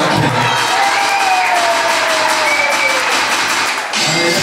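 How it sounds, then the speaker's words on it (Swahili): Wedding guests clapping and cheering at a church wedding, a loud crowd of many hands with whoops and shouts mixed in, sustained throughout and dipping briefly near the end. "Jamani, makofi mengi kwake."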